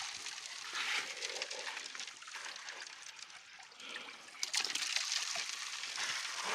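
Water runs steadily through a gold sluice box at a prospecting site, a continuous trickling, splashing flow that swells a little louder toward the end, with no talk over it.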